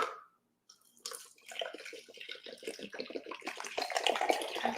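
Water runs steadily from a tap after a short silence, a splashing, gurgling stream that grows fuller and louder as it continues.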